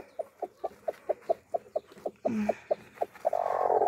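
A black Chiricana hen clucks in a steady rhythmic series of short soft calls, close by, with a brief rustle midway and a louder flutter at the end.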